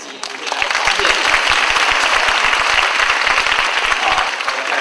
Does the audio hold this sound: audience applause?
yes